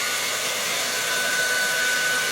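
A Conair Double hair dryer in white and rose gold runs steadily at close range, giving a continuous airy, broadband whoosh with a faint high whine and no talk over it.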